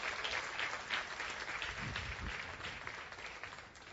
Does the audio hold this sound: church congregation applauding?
yes